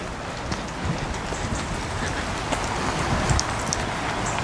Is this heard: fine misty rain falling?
yes